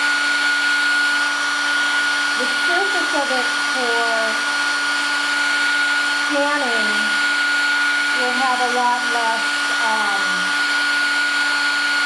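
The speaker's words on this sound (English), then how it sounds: "If I dry it with a hair dryer" A hair dryer blows with a loud, constant whirring hiss throughout while a person talks over it.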